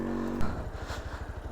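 A Yamaha RX 100 motorcycle pulls away on an off-road trail, its two-stroke engine giving a loud, close, rapid pulsing putter that rises as it rides off.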